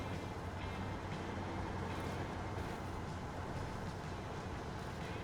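A stuck truck in the SnowRunner driving game labours under load, its engine drone a steady, dense rumble that holds unbroken and fairly loud throughout.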